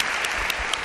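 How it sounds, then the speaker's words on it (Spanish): Brief burst of audience applause in a Spanish radio studio, a thick wash of clapping that lasts under a second. "Os pido un aplauso para ellos, Mikel y Cerralde."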